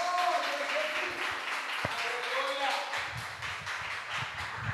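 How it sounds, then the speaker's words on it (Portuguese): A church congregation applauds during a worship service, a steady wash of clapping with voices and a few tones sounding over it throughout. "Palmas para Jesus."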